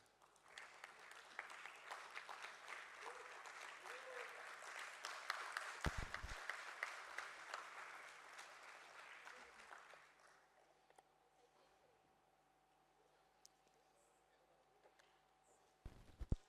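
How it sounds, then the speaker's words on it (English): Sustained audience clapping at a stock exchange listing ceremony, loud and dense for about ten seconds, then fading to a quiet room with a few scattered claps near the end. "Keep clapping"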